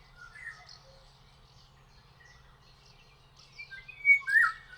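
A thrush chirps in short, scattered calls over a low hum, faint at first, then louder with a brighter burst of chirps near the end.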